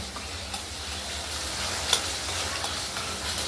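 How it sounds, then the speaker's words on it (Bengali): Spice masala for katla fish curry sizzling in a pan while being stirred, a continuous close frying hiss with faint scraping. "মশলাটা আমরা খুব ভালো করে কষিয়ে নেব"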